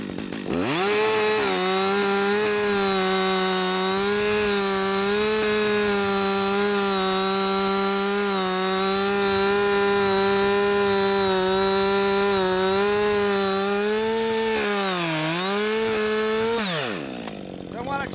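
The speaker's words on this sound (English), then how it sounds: "Now that the saw is into the wood, it will not turn on me." A chainsaw runs steadily at high revs while cutting into a standing tree trunk to form the notch and hinge during felling. The engine whine holds loud and close for about fifteen seconds, dips briefly under load, then winds down near the end.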